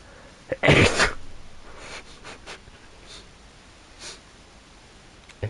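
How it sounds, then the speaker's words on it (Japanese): A single sharp, loud sneeze near the start, followed by quiet room noise and a few faint rustles and sniffs. "あ、くしゃみ出る。"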